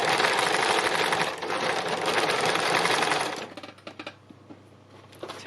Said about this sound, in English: I'm going to work out and just do simple lines of